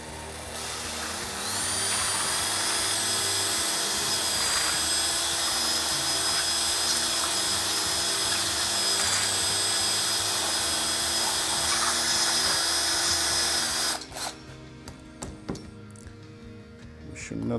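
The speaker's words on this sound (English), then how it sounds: "I will take the mechanical drill" A mechanical drill mixing colourants into a decorative finish whirs in a steady, loud drone for about twelve seconds, then stops and gives way to scraping and knocking sounds of the mix being checked.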